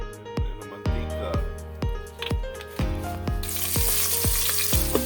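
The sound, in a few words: onions frying in oil until golden brown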